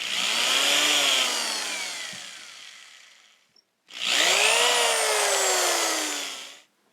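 A power drill bores into a bowling ball in two long bursts. Each whines up, bites, then trails off, with a short pause between them. The drilling is close and loud, with no talking.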